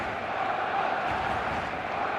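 A stadium crowd roars as a dense, steady wall of noise before kickoff, loud and continuous with no single voice standing out.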